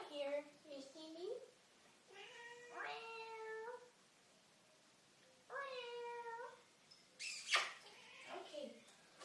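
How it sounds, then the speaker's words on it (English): A pet cat called Mama Kitty meows several times, drawn-out and fairly close, with pauses between calls and a voice talking in between. "This is Mama Kitty. She just bit my leg for no reason."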